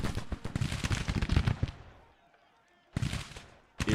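Grand Tactician Civil War battle: someone talks over a clatter of distant musket fire, then a pause, then two sharp cannon and gun bursts near the end.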